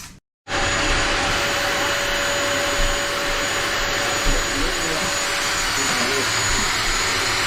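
A vacuum cleaner switches on after a brief silence and then runs loud and steady while a boat's wheelhouse and main cabin are cleaned up during a fit-out, with a constant motor whine throughout.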